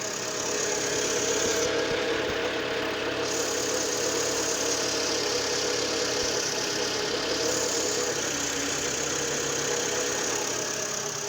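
A Citroen Berlingo with a TU5JP4 petrol engine idles steadily for several seconds after an oil and filter change, a constant mid-pitched hum with faint ticking, heard without speech.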